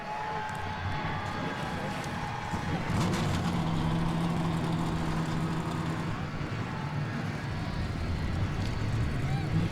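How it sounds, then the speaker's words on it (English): Simulated NASCAR-style race car engines firing up together in the NR2003 game at the Rockingham oval, a loud continuous engine roar with revving tones building throughout, over steady background crowd-like noise. "Let's go on trackside to fire these engines up for 60 laps around this just over 1 mile circuit."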